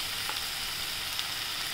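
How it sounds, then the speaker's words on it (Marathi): Cluster beans with garlic, turmeric, red chili powder and coriander powder sautéing in a pan, giving a steady, soft hiss of frying with no talk. "आता आपण याला एकदा परतून घेऊया"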